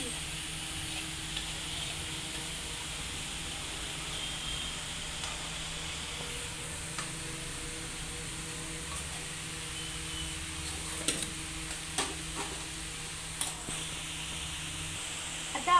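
Potatoes for a potato bhaji stir-fry in a pan, giving a steady low sizzle and hiss throughout, with a few brief clicks of a utensil against the pan near the end.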